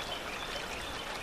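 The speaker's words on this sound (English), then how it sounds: "the gentle little creek" A gentle little creek in Asheville, North Carolina flows with a soft, even trickling wash, steady and unbroken with no voices.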